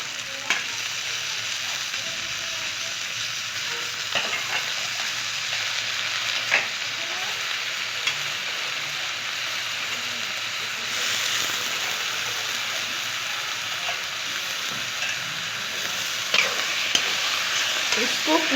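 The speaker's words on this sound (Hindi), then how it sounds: "अब इसमें मैं पालक को डालूंगी। अब इसी में मैं आलू डालूंगी।" Spinach and potatoes tipped into hot oil with golden garlic in a pan sizzle and crackle steadily, with occasional louder pops and stirring clatter, growing a little busier toward the end.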